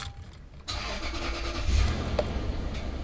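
A 2004 Lexus GX470 engine cranks briefly and catches, then settles into a steady idle, heard from close by with no talk.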